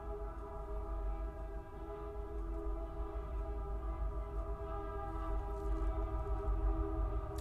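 A passing train gives a steady low rumble with sustained tonal hum, moderately loud and continuous throughout, with no talk.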